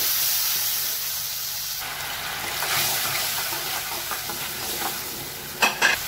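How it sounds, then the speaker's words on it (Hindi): Onion and tomato puree with green chillies frying in a pan for Pindi chole, a steady hiss and sizzle with intermittent stirring scrapes and a brief louder clatter near the end. "ये देखिए ये हमारा जो प्याज और टमाटर है ये भून गए हैं"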